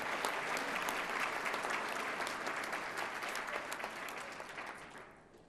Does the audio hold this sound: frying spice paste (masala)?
no